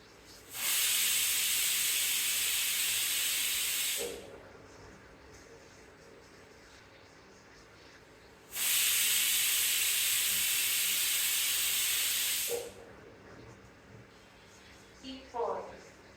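A pressure cooker on an automatic mechanical chef, cooking erissery, lets off steam in two loud, sustained hisses of about four seconds each. Quieter gaps with faint clicks separate them.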